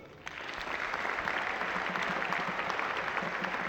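A live concert audience applauds as a performer is introduced on stage, moderately distant but steady clapping that rises after a brief moment and continues evenly throughout.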